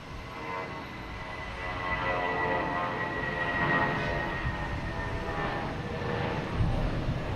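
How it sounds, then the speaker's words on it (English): Passenger jet taking off at Boston Logan, a steady broadband engine roar that swells and holds through the clip, heard from a distance with a faint whine on top and no talking. "Here's one taking off."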